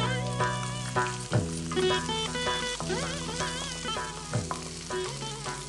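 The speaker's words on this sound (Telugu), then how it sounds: "సో ఇవన్నీ మనకు కొంచెం బాగా వేగాలి కదా" Onions fry in oil with cloves and urad dal in a pan on a TV cooking show, a continuous sizzle with a few stirring knocks. Melodic background music plays loudly over it.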